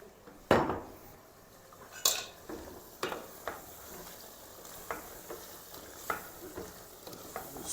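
Fresh spinach goes into a frying pan and gets stirred, a soft sizzle under a series of distinct spoon-on-pan scrapes and clinks repeating roughly every second, fairly quiet and close.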